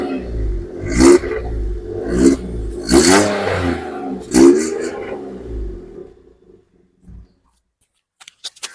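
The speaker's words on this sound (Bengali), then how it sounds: "একবার আমি রিকোয়েস্ট করব পোলোটার সাউন্ড শোনানোর জন্য" A first-owner Volkswagen Polo car in excellent condition revs its engine in four sharp, close bursts that rise and fall, then drops away to near silence with a few faint clicks at the end.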